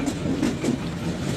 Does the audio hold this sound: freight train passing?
yes